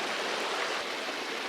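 A spring-fed stream in the Oregon Cascades flows close by, giving a loud, steady broadband rush of water with no pauses and no other sounds.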